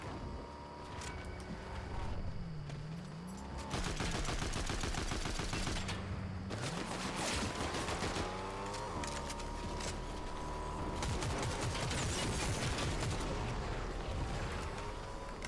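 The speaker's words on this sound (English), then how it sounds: "somebody's firing from behind us." Dense gunfire in a shooter video game, rapid bursts and overlapping shots over game music and effects, loud and nearly continuous.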